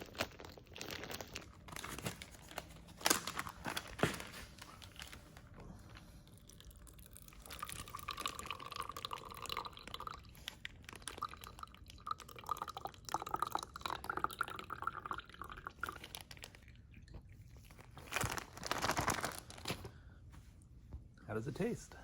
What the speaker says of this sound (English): No point in sampling all the grapes if you don't crush them all up.